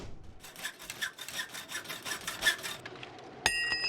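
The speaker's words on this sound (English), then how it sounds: "I'm hoping that our crappiest hacksaw is the one being used right now, by default." Steady rhythmic rasping strokes of a hacksaw cutting in the survival video game The Long Dark, moderately quiet and regular, ending with a brief sharp clank.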